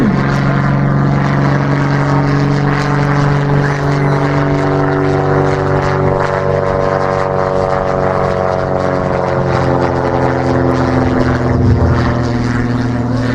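Jungmeister propeller aerobatic plane flying at an air show at Margny-lès-Compiègne: a loud, close, sustained piston-engine drone with a strong buzzing propeller tone, steady throughout with slight pitch shifts as it manoeuvres.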